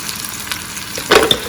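Pork chops fry in a pan as green sauce is spooned over them midway through cooking, giving a steady soft sizzle that swells into a louder, brief crackling burst near the end.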